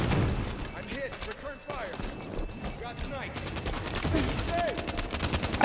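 Rapid gunfire and bullets whizzing past in a Halo 5 multiplayer match, with bursts of automatic fire and sharp shots repeating throughout while someone talks over the noise.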